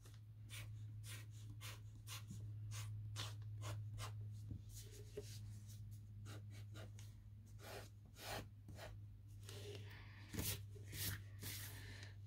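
A rubber eraser scrubs pencil lines off paper during a pepperoni pizza drawing, a quick series of short, close rasping strokes over a steady low hum.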